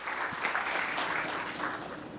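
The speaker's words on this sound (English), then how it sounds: "Let's give these young men a round of applause." A round of applause at a town council meeting, a brief, fairly close burst of many hands clapping at an even level with no talk over it.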